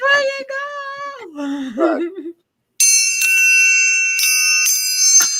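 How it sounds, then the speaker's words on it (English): A person speaks, then a metal triangle rings out: several bright, sustained chime strikes follow one another, each ringing on and overlapping the last. "And a chime."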